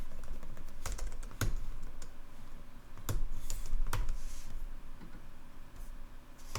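Typing on a computer keyboard during Ruby on Rails coding work, a steady run of close, quick key clicks with a few louder strikes, alone with no talk.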